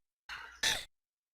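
A man with a lingering cold gives a short rough cough in two quick bursts, close and fairly quiet, followed by silence.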